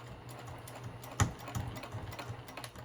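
Sewing machine stitching across a thick nylon zipper on a pouch, a steady low mechanical hum with soft rhythmic needle clicks and one sharper knock, moderately close.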